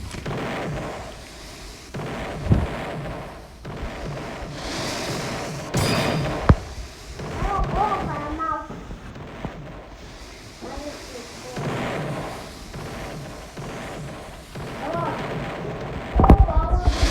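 Ship cannons boom in a Roblox naval battle game, a string of irregular blasts and thuds over background game sounds, while children chatter and laugh throughout.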